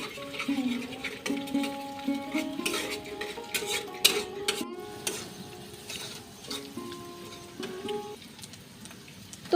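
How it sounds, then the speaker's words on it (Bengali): Two eggs, one duck and one country hen's, fry with onion and chilli in a kadai, a spatula scraping and clinking against the metal in irregular strokes over a soft sizzle, close and fairly quiet. "তো ডিমগুলো এখন আমি ভালো করে ভেজে নেব।"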